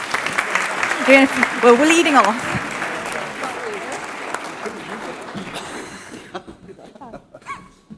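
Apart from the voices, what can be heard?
conference audience applause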